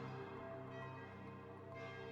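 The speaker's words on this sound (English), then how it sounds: "The bells toll again." Church bells toll faintly, their ringing tones sustained and overlapping in a quiet, reverberant wash with no voices.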